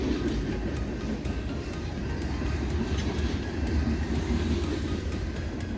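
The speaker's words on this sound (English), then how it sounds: "we'll let this train go by here" A BNSF freight train with a Heritage 1 unit passes near Springfield, Missouri, as a steady, loud rolling rumble with wheel noise that holds evenly throughout, with no voices.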